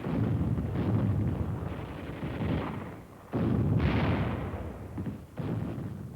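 Heavy artillery bombardment pounding the Iwo Jima beachhead in World War II, deep rumbling blasts swelling and fading in repeated waves, loud and without speech.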